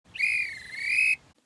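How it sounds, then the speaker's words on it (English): A railway guard's whistle gives one sustained, clear, shrill blast lasting about a second, close and alone against a quiet background. "or the guard to blow his whistle."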